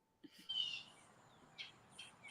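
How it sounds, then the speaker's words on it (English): A bird chirps outdoors in a few short, high calls spaced across a couple of seconds, faint and thin over a low background. "tell that bird to hush"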